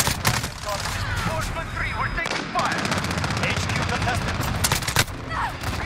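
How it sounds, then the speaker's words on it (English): Explosive shotgun and other gunfire in Call of Duty Modern Warfare, a dense, loud barrage of rapid shots and bursts with sharp blasts near the start and end, continuous throughout. "He's using a explosive shotgun."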